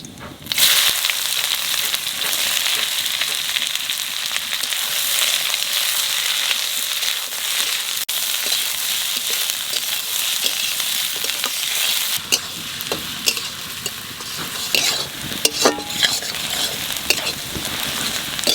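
Sliced onions fry with three bay leaves and cumin in oil in a wok for village-style mutton curry, with a loud steady sizzle and repeated scraping of the spatula throughout.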